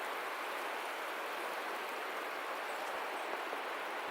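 Hail pours down outdoors in a forest beside a river during a hailstorm, a continuous dense hiss of pelting ice at an even level with no voices.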